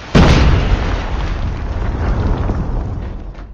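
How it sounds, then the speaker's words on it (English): A predator missile explodes in Call of Duty Mobile, a sudden loud boom that settles into a long rumbling roar and slowly fades over a few seconds. "Hostile predator missile inbound"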